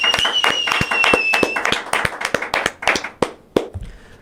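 Short burst of hand clapping and applause from a small group, loud and close, with sharp irregular claps thinning out toward the end; a faint whistle-like tone sits under the first half.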